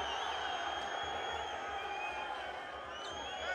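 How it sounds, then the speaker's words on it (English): Home basketball crowd in an arena reacting to a blocking foul call, a steady dense roar of many voices with scattered whoops and whistles that holds loud and unbroken throughout. "And the home crowd did not like that one."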